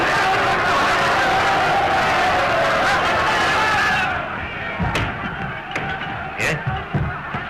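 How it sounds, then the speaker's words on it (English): A film-era crowd gathered outside in a state of wild excitement after a shot is fired, a dense roar of many voices and shouts that drops off midway, leaving scattered bangs and thumps against a quieter murmur. "The crowd outside are in a terrible state of excitement"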